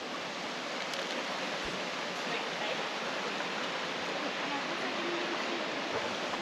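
Small creek in a gorge along the Gibb River Road, a steady broadband rush of flowing water at even volume throughout, with children playing nearby but no clear speech.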